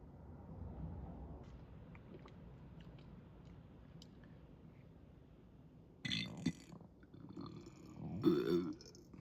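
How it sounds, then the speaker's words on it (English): A loud, weird burp erupting in two bursts near the end, after a stretch of quiet room noise with faint ticks. "that's probably one of the weirdest burps I've ever done"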